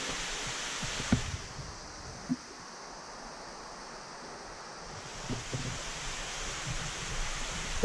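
Can-umantad Falls in Bohol pours with a steady broadband rush of falling water, even and continuous like surf, with wind buffeting the microphone and a few faint knocks.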